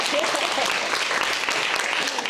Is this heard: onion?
no